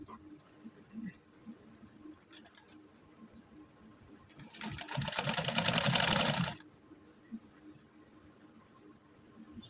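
A sewing machine stitches a shaped fabric belt in a single loud, steady run of about two seconds, between quiet handling noises, no talk.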